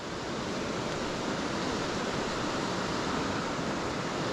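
Water from the River Wansbeck pours steadily over an old dam wall, a continuous broadband rush close by that holds even from start to finish with no voices.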